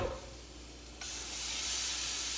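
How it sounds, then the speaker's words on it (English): Salmon searing in a hot pan, a soft hiss that jumps abruptly into a louder, bright, steady sizzle, close and without talk. "What's basically what I'm doing is seared, basically seared."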